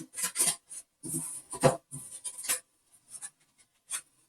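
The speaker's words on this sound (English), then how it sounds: "So I think we're going to pull a card here." Tarot cards sliding and rasping against one another as one is drawn from the deck, a close, dry rustle that comes in short irregular bursts separated by brief pauses.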